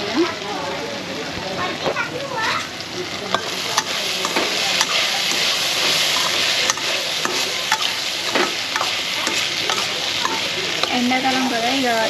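Food frying in a pan in a home kitchen: a dense, continuous sizzle with spatula stirs and scrapes, while a voice talks over it.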